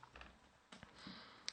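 A computer keyboard clicks out an IP address: a few faint, quick keystrokes in short bursts in a quiet room.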